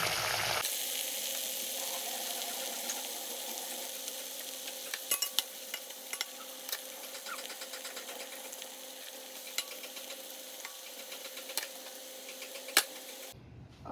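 Raw banana chips for Onam upperi fry in hot oil with a steady dense sizzle, while a utensil stirs and scrapes through them in scattered clinks, close and continuous with no voices.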